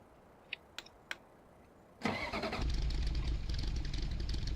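Three quick clicks come first, then a vehicle engine in Farming Simulator 2015 cranks and catches with an air-cooled, Beetle-like character, settling into a steady close idle.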